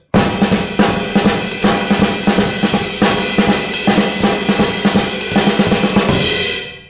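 A drum kit pattern with the left-hand drum hits standing out sharply among cymbals, a loud, busy, driving rhythm played close up.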